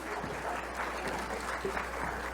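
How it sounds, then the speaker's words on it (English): An audience at a children's show breaks into steady, continuous applause, heard as an even wash of clapping at moderate distance throughout. "Give the audience a clap for saying that"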